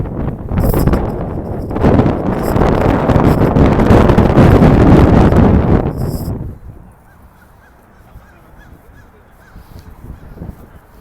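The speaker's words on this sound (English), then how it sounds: "It's kind of windy." Strong wind buffets the microphone beside a partly frozen lake near Navy Pier in Chicago, a loud, rough roar for about six seconds that then drops to a quieter outdoor hush with faint distant sounds.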